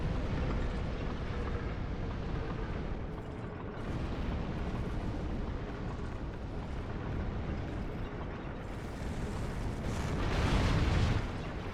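Barrels detonating in Dark Souls 2 DLC, heavy booming explosions rumbling continuously with dense low-end roar that swells louder near the end, no talking.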